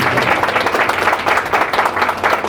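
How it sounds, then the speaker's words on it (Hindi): A church congregation claps loudly together in worship, a close, dense burst of hand clapping with a slightly pulsing rhythm that continues steadily throughout. "जोर से एक बार ताली बजाए उस परमेश्वर के लिए"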